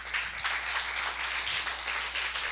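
A church congregation claps together in a dense, steady round of applause through the whole moment, with no voices standing out.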